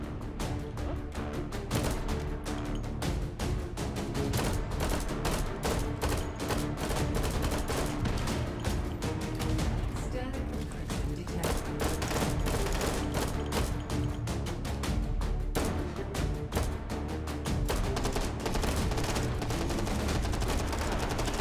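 Rapid bursts of gunfire in the VR shooter Hot Dogs, Horseshoes & Hand Grenades, dense overlapping shots and automatic fire sustained throughout at a loud, steady level.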